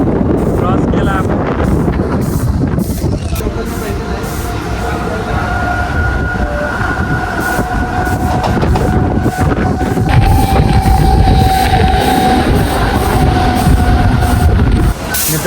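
Rattling, rumbling ride aboard a moving local commuter train near Neral and Kalyan in India, with steady loud wheel and carriage noise and wind buffeting the microphone throughout.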